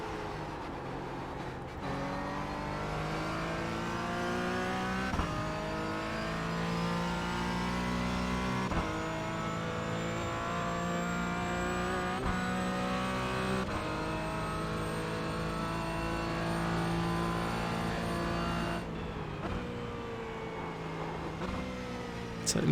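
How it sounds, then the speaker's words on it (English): Race car engines in the iRacing sim at the Nürburgring, a loud continuous engine whine climbing through gears with regular shift breaks as a faster GT3 car closes in behind, with no talk. "There's a faster car approaching."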